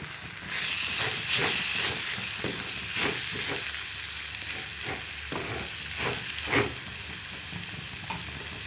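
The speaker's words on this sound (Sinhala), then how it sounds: "මේ පොල් ටික දාලා හොඳින් කලවම් කරගන්න තමයි තියෙන්නේ." Grated coconut being stirred into frying tomatoes in a pan, a loud steady sizzle with rhythmic scraping strokes about once a second, close by, no talking.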